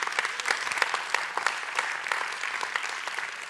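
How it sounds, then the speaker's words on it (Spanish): A church congregation claps in applause during a Sunday service, crisp overlapping hand claps forming a steady, fairly close wash for a few seconds with no talking. "sí, eso merece un aplauso."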